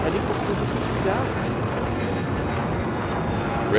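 An enemy jet roaring in the video game Battlefield 4, a broad steady engine rumble filling the mix, rising slightly at the very end.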